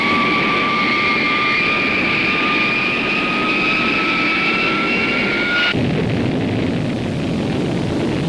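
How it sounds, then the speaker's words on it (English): Jet fighters of the Air National Guard taking off on a scramble from an air base, a loud continuous roar with a rising whine that cuts off abruptly near the end, leaving steady broadband noise. "the Air National Guard has jet fighters in the air, ready to stave off any attempt on the area"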